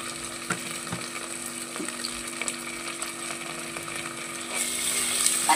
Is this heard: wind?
no